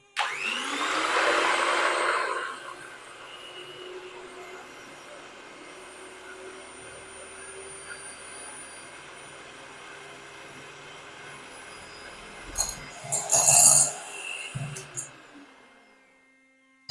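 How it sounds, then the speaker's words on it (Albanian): Electric hand mixer whipping egg whites with a little salt for a sponge cake, a steady whirring drone running throughout, louder at the start and with clattering, rising bursts near the end. "Dhe filloj që të bëj rrahjen, i rrahi dikon rreth 3-4 minuta me mikser."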